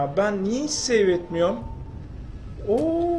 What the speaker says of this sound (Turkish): Kedi o kedi. Benim kedi.